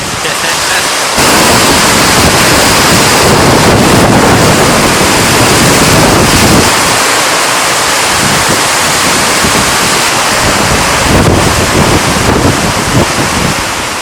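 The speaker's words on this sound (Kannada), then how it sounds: "ಈಗ ಫುಲ್ ಬರೋದು ಗಾಳಿ ಮಳೆ." Loud, steady roar of strong wind buffeting the microphone during heavy rain, with a broad rushing wash of rainfall, continuous throughout with gusty surges.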